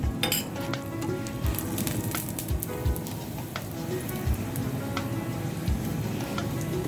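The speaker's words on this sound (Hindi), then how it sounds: "अब हम इसे इसमें डालते हैं घी थोड़ा सा, और ऊपर भी ऐड कर देंगे थोड़ा सा घी।" Besan roti frying in ghee on a pan crackles with a steady, close sizzle, dotted with sharp pops and ticks scattered irregularly throughout.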